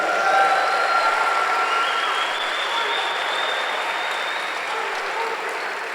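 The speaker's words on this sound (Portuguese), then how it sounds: "Então diga amém e dê um aplauso a Jesus." Sustained applause from a church congregation at a Sunday service, a dense, steady wash of clapping filling the room for the whole stretch with a faint tone running under it.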